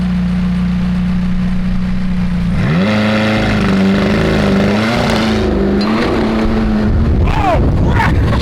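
A McLaren 675LT idles with a steady drone, then revs sharply at a launch control start and the engine note climbs and wavers as the car accelerates hard, loud and close.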